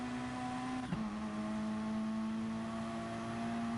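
A race car in the sim racing game DGT GR3EVO holds a steady, loud engine drone at constant pitch, with a brief blip near the start as the throttle comes on.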